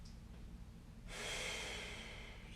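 A person lying on a foam roller draws one deep, audible breath in through the nose, a close, soft rushing inhale starting after a quiet moment and holding for over a second.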